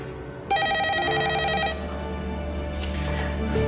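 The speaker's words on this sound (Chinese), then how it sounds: "我接个电话" A telephone rings in a home, starting abruptly with a bright electronic trill that sounds steadily and then falls quieter and duller, over a low background hum.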